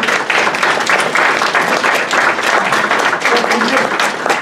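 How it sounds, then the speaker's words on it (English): Audience at Horizon House applauds, a close, loud round of dense clapping with individual claps standing out, lasting a few seconds. "I think Jean deserves a round of applause"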